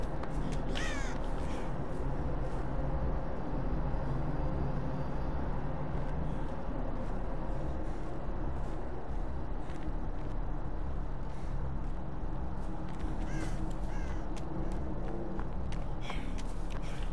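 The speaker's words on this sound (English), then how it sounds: "Damn crows, man." Crows cawing in the horror video game Dead by Daylight, several sharp repeated caws scattered over a constant low rumbling game ambience, with no speech.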